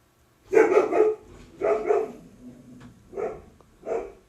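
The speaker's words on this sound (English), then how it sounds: "Sorry about that dog barking in the background." A dog barks in a string of bursts, two quick doubled barks followed by shorter single ones, fairly close and clear against a quiet room.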